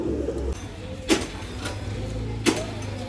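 Pigeons kept for sale in Bangalore coo low and steady throughout, a soft murmuring layer with no talk, broken by two brief sharp clatters of wings or movement.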